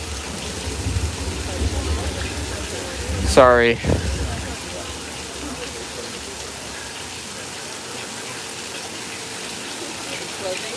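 Artificial rain from hidden overhead sprinklers on a Universal Studios tour set at night gives a steady broad wash of falling water, with a brief sweeping electronic effect and a voice speaking over it.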